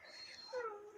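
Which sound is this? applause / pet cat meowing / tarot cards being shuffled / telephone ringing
pet cat meowing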